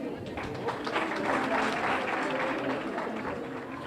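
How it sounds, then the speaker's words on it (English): An audience at a 2015 scholarship award ceremony at an Islamic center applauds to welcome a speaker, with dense, steady clapping that fills the room at a constant level for the whole stretch. "So give him a hand, please."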